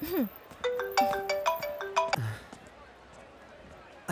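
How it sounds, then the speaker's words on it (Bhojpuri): Mobile phone ringtone in a Bhojpuri film scene, a bright tonal melody of rising and stepping notes playing in short bursts for about two seconds before fading out. "पापा के फोन है"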